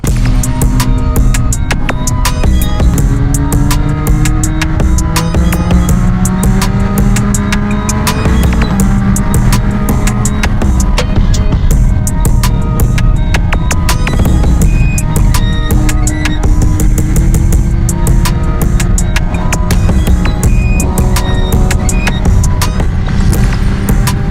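A motorcycle ridden with a camera fitted with ND filters, its engine droning steadily and loudly with shifting pitch and constant wind and road noise, with no talking.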